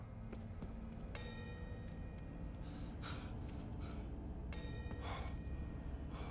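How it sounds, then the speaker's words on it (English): A bell rings in the horror video game OVRDARK, with a few clear metallic strikes that leave ringing tones over a low, constant ambient drone and occasional breathy sounds. "the bell's going off in here"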